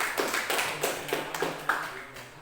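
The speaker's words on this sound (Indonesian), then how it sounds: "Tepuk tangan dulu" A small class claps briefly during a lesson on motorcycle valve mechanisms, about half a dozen distinct, fairly quiet claps in an uneven rhythm, close by, with no speech over them.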